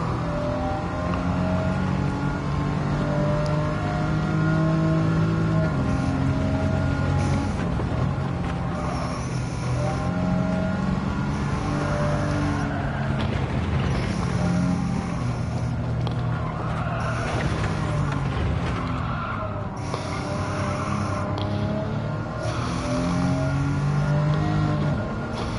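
A red Alfa Romeo 4C in Gran Turismo 7 on a circuit, its engine droning and revving steadily for the whole stretch, with tire squeal and skidding through corners and no talk over it.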